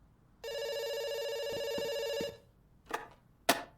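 A telephone rings in the video game Dr. Langeskov, one long electronic ring burst lasting about two seconds, followed by two short clicks as the line drops, heard alone and clear.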